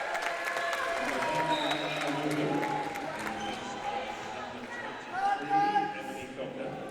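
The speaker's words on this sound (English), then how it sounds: "much to the applause of the crowd" Crowd applause at a netball semi-final, a broad wash of clapping spread through the whole stretch under an ongoing commentary voice.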